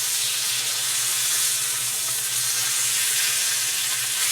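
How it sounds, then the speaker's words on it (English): A beef roast searing in a hot pan gives a loud, constant hissing sizzle with a low steady hum beneath it, unbroken from start to finish. "Want to make sure that you sear it all. We're not cooking it. We're just searing in."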